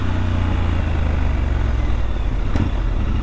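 A Triumph Scrambler 1200 XE motorcycle engine rumbles steadily at cruising speed just after leaving a motorway, a dense continuous drone with a brief brighter blip midway, no voices.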